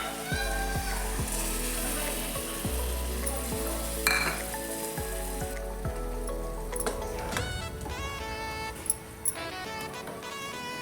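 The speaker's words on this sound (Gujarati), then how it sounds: "એક વાટકી જેટલું ગરમ પાણી એડ કરશું" Hot water is poured into a sizzling pan of cluster bean and potato curry. A steady fry sizzle gives way to a brief splash and a softer, bubbling hiss, with occasional clinks of a utensil against the pan.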